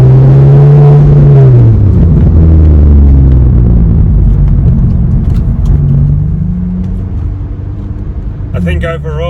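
A 2006 Volkswagen Golf GTI cruises along with a steady low engine and road rumble, largely under loud talking, ending in a short burst of sharp noise.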